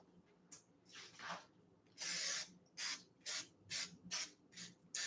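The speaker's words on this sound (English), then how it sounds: "I'm gonna put just a little bit of cooking spray in it so it doesn't stick." Cooking spray hisses from a can into a pie crust pan in a quiet kitchen: one longer spray, then a run of about six short, evenly spaced bursts, close and crisp with nothing else heard.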